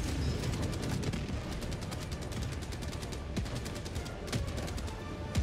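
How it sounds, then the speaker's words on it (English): Rocket launches and heavy weapon fire in the Helldivers 2 video game, a dense rapid barrage of sharp repeated blasts over constant rumbling battle noise, with no talking. "Rockets launched."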